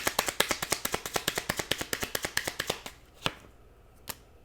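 A deck of tarot cards is riffled in a rapid, even run of crisp snaps, close and fairly quiet, which slows to a few separate flicks as cards are drawn.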